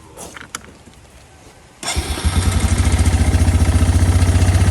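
After a few quiet clicks, a small four-wheeler engine cranks and catches, settling into a loud, rapidly pulsing idle close by, with a lingering rattle.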